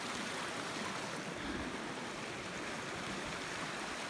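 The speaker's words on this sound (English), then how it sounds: "Quite a lot of water running down there too" A creek rushes down a gorge in a steady, broadband wash of running water, continuous and fairly distant with no other sounds.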